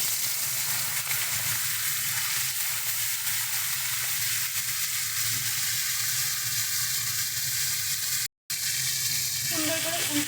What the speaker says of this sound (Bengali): এবার আমরা মাছগুলোকে দিয়ে ভেজে নেব।